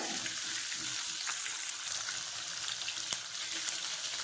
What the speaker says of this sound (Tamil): வெங்காயம் எல்லாம் சேர்ந்து நல்லா வதங்கணும் வெங்காயம் வந்து நல்லா வதக்கணும்